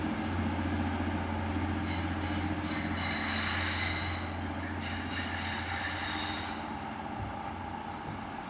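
A Class 185 TransPennine Express passenger train rolls into a station close by with a low engine drone, rhythmic wheel clatter and bursts of high metallic squeal that fade as it slows.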